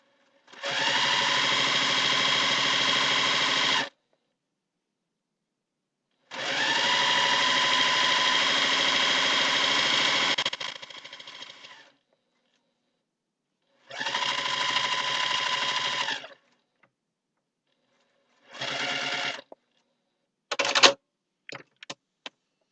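A sewing machine stitches quilt fabric strips in several sustained runs of steady whirring, each followed by a pause, the bursts growing shorter toward the end until only quick stops and starts remain; no talking.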